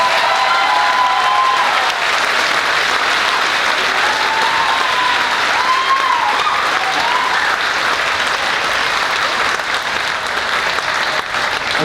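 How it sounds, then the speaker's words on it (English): An audience at a school spring concert applauds the juniors with dense, sustained clapping that holds steady throughout and fades slightly near the end. "Let's give these juniors a round of applause."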